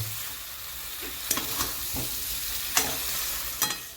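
Fried potatoes and boiled eggs being stirred into a spice masala in a hot pan for a Bengali egg curry: a steady sizzle broken by several scraping stir strokes at intervals, with no voices.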